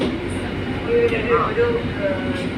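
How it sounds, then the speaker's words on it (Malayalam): A metro train passes overhead with a steady low roar and some faint tonal squeaks, fairly loud and continuous across the short stretch. "ഇനിയുള്ളത് നമ്മളെ മുകളിലൂടെ പോകുന്ന മെട്രോ ആണ്"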